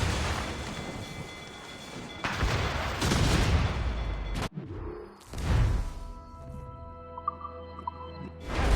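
Ship cannons fire in a naval battle in the game Assassin's Creed Rogue: several heavy, booming broadside blasts roll out one after another, then fade into a quieter rumble with scattered creaks and clatter.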